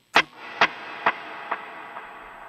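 A single sharp plucked electric guitar note through a heavy dotted-eighth delay, followed by four repeating echoes, evenly spaced and fading steadily, with a faint wash behind them.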